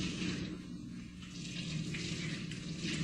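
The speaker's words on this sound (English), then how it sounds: "Empty all the water left from the washing" Water poured out of washing buckets at a Jewish burial purification, a continuous close splashing and gushing with a fluctuating hiss and no breaks, heard alone.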